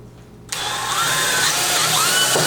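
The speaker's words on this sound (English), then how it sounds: "Let's give this a good drill here and see what happens." A power drill kicks on suddenly and bores steadily into a screw hole, its whining motor loud and close, with the pitch wavering slightly as the bit bites.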